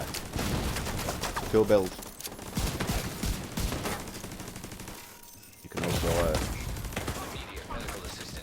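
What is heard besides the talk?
gunfire in the video game The Division 2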